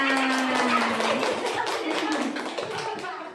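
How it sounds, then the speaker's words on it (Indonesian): A group of people clapping their hands together in a school classroom, a sustained fairly loud burst of applause lasting a few seconds and fading slightly toward the end. "Tepuk tangan."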